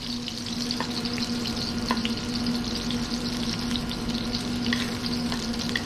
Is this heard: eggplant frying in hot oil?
yes